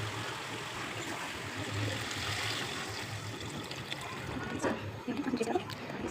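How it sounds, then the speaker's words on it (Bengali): Hot water is poured into a Bengali chicken curry with fried potatoes, giving a soft continuous splashing trickle that grows busier toward the end, with light kitchen clatter. "এবার গরম জল করে রেখেছিলাম ওটা ঢেলে দেবো।"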